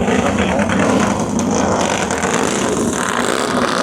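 Loud, continuous roar of five vintage Vincent motorcycle engines racing close by at the Burt Munro Challenge in Invercargill, New Zealand, a dense droning rumble that stays strong throughout without a break.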